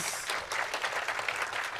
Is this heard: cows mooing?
no